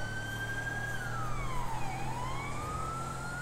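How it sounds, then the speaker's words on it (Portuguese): A police car siren from a Minas Gerais ROTAM patrol vehicle in GTA V with the LSPDFR mod wails loud and close, sweeping its pitch down and back up over a steady engine drone. "Vou ver aqui nossa sirene."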